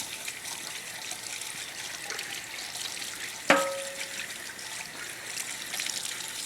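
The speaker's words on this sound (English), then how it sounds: "So I'm gonna wash my hands here." Tap water runs steadily in a home kitchen while hands are washed beneath it, a continuous hiss with one sharp clink of something struck partway through.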